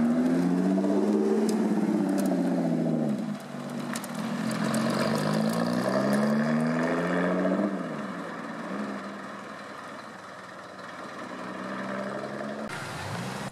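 A Lotus Evora sports car pulling out of the Magny-Cours circuit, its engine note rising and falling through several gear changes as it passes nearby and then recedes into a steady distant drone.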